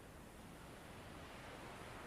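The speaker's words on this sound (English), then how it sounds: "You watch several waves come in this way" Ocean waves roll in to shore as a soft, continuous wash of broadband surf noise, steady and fairly faint throughout, with no talking.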